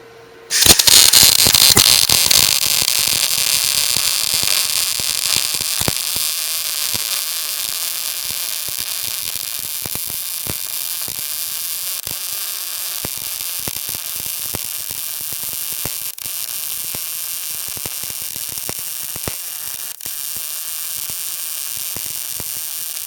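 MIG welding with a Vulcan or Yeswelder 205DS welder at reduced wire speed: a loud, steady crackling buzz that starts abruptly and runs continuously with sputtering pops for over twenty seconds.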